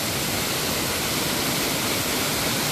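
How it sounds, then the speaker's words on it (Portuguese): The second fall of the Serra das Andorinhas waterfall near São Geraldo do Araguaia roars as a dense, steady rush of falling water that is close and loud and fills the whole moment without any break or voices. "Aqui é a segunda queda."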